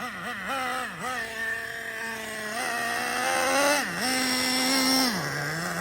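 The electric motor of a Traxxas Slayer RC truck whines in a steady tone, its pitch dipping and rising repeatedly as the throttle is worked, fairly close and clear with no talking.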